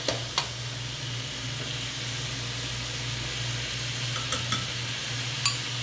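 Flavorings saute in a hot pan for a Thai tapioca pork ball dish, giving a steady close sizzle under a low hum, with a few sharp clicks of a utensil against the pan.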